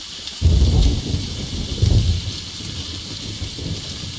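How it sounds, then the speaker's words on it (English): A deep rumble of thunder in an Unreal Engine 4 video game rolls in and fades, followed by a second softer roll, over a steady hiss like rain. "you might have heard a little bit of thunder."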